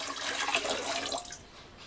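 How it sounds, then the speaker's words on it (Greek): Lukewarm water poured for bread dough, a brief bright splashing trickle lasting under two seconds that thins out at the end, close and alone. "330 γραμμάρια χλιαρό νερό ή μία μισή κούπα"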